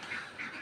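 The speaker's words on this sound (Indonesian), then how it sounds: "Padahal ini kan itik untuk petelur" Laying ducks on a farm give two quick, close quacks in a short burst, clear and alone.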